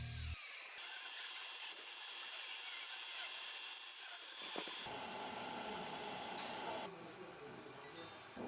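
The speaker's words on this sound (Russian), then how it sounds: "Брызну РВшки и начинаю сверлить." A drill bores out the glow plug and injector channels of a welded cylinder head from a Volkswagen Crafter 2.0 TDI. It gives a continuous, close, gritty whirr and grind with shifting pitch, and no voices are heard.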